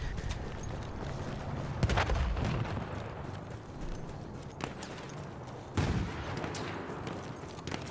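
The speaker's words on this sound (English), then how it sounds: "I don't know what I was getting shot at by." Battlefield 1 gameplay with distant gunfire cracking in sharp bursts over a steady rumbling battlefield ambience, two louder volleys standing out amid scattered shots.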